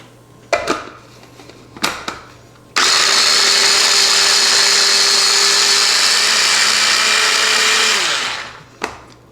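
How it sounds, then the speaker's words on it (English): A small electric food chopper whirs steadily for about five seconds while chopping red onion, its loud motor hum holding even and then winding down, with brief knocks and clatter of handling just before and after. "So we're gonna do a little bit of red onion. We're gonna give that a chop."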